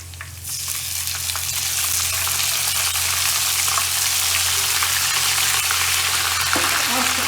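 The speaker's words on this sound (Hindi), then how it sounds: "अब हमने अदरक लहसुन का पेस्ट 1 चम्मच इसमें डालना है।" Onions browned in a pan sizzle and fry with a spoonful of ginger garlic paste added, for a masala mash daal; a steady, close, continuous crackle with no talking.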